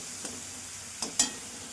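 Spices with tomato, chili, turmeric and ground cumin fry in oil for a Bata fish jhal, giving a soft, steady sizzle broken by two or three brief stirring scrapes near the end.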